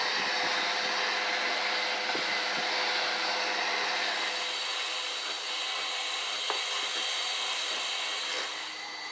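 A vacuum cleaner sucks loose metal shavings out of a Ford Transit van during a DIY window install. It makes a steady, close whooshing drone with a few small rattling ticks of debris, then tapers off near the end.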